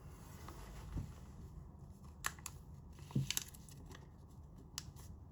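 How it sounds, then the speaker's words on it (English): A dollar bill is folded and creased for origami, giving faint, close paper crinkles and a few sharp crisp snaps and taps in a quiet room. "You're going to fold it in like this and then crease that down."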